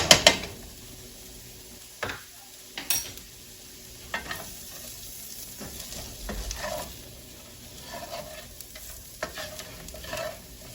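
Potatoes frying in butter in a pan for a lobster omelette breakfast, a soft continuous sizzle broken by repeated scraping stirs and occasional utensil knocks, close and fairly quiet with no talking.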